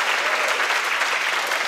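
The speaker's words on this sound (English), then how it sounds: "they deserve a massive round of applause" Audience applause at an awards ceremony, a steady unbroken wash of clapping from a large crowd that fills the whole stretch at even loudness.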